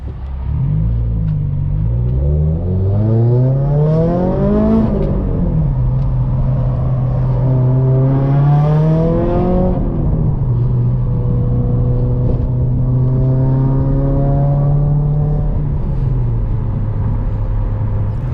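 A loud Subaru WRX accelerates hard on a street, its engine note rising through repeated pulls with gear changes, then holding a steady drone, close and loud throughout with no talk.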